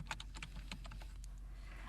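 Keys clacking on a computer keyboard while entering task names in Microsoft Project 2007, a quick irregular run of close, light taps over a quiet background.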